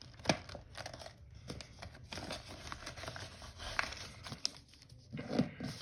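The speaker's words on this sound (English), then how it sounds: "let's just fold these flaps inward" Paper flaps on a folded paper space shuttle model are pressed inward, giving soft, scattered crinkles and creases at close range with no talking.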